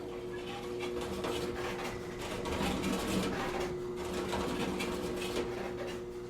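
Pea sheller with its drum turning at about 145 RPM and inner beaters spinning near 600 RPM, a steady mechanical whir with a constant hum and rattling, running continuously and fairly close.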